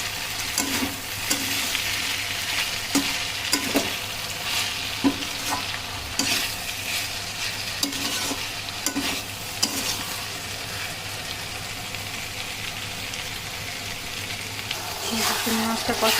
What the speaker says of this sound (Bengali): আর এই পাশে ঢেঁড়স ভাজি হচ্ছে আমার প্রায় হয়ে আসছে